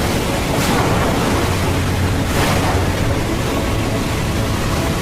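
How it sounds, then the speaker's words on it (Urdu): Stormy sea waves rise and crash around a boat at sea, a loud continuous roar of surf and wind with two brief surges, no voices. "اچانک اونچی اونچی لہریں اٹھنے لگی"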